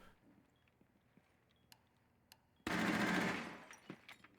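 Automatic gunfire from a video game replay erupts as a sudden, loud, dense burst lasting about a second, then trails off into quieter scattered clicks and faint background noise.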